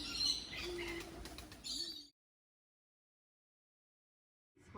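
Birds chirp and call nearby for about two seconds, bright tweets and a cooing note, before the sound cuts to silence.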